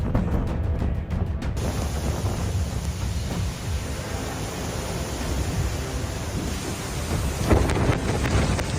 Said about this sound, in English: Hurricane Beryl is hitting Texas with super strong winds and massive rainfall.